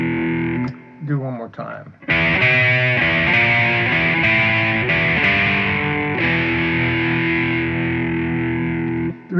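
Fretless cigar box guitar playing a song at a slow tempo, with strummed distorted chords ringing loud and steady after a short spoken phrase at the start.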